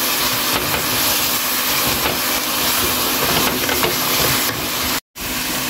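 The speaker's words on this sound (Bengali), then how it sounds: "বেশ কিছুক্ষণ ভেজে নেওয়ার পর দিয়ে দিচ্ছি রসুন ছেঁচা।" Crushed garlic sizzles loudly in hot oil in a pan with onions already frying, a dense continuous hiss close up that cuts off abruptly near the end.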